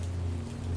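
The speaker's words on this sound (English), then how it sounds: "Oh, this rain." Rain falling in a steady, dense hiss on a surface, close and continuous with a low hum underneath, over a very brief stretch and with no one talking.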